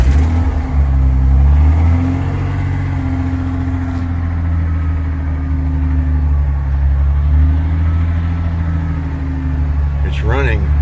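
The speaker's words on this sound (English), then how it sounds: "Let's see if we can get her to fire." A 1993 Ford F250 engine fires up and settles into a loud, steady low rumbling idle with slight rises and dips, close by, while a voice speaks briefly near the end.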